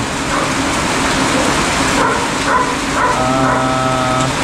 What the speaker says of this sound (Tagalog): wala pa rin pong humpay ang ulan. At napakalakas po ng ulan